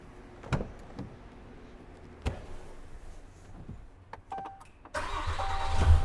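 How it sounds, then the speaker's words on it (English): A Cummins 6.7 diesel pickup truck engine cranks and fires up about five seconds in, rising to a loud, steady idle, preceded by a few sharp clicks and knocks from inside the cab. "fire the vehicle up"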